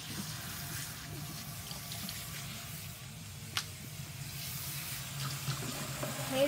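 A steady stream of tap water runs continuously during a dog's bath, fairly quiet and even, with a single small knock partway through.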